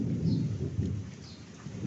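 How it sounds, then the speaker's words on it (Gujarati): A low, rolling rumble of thunder over steady rain, heard from a distance. "વીજળી સાંભળો ખાલી તમે, વીજળી રેકોર્ડ થશે"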